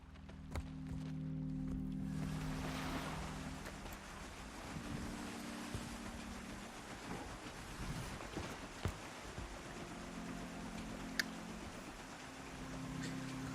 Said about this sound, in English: Nice little boat putting its way through the water.